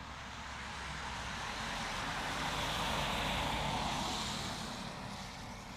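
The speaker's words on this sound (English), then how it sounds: "Jet2 just hurtling across 2-3 right, making its way down to us there." Jet2 airliner on the runway at Manchester Airport, a broad distant roar that swells and fades as it rolls past, with no talk.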